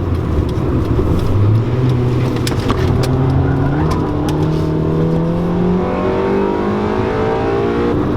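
A 1999 Honda Civic Si (EM1) with a 1.6-liter VTEC engine revs hard and climbs steadily in pitch, loud and close, with a constant engine roar and no voices.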